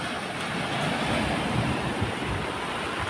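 Ocean waves washing onto the shore after a typhoon, a dense continuous roar of surf close by with wind noise, no voices.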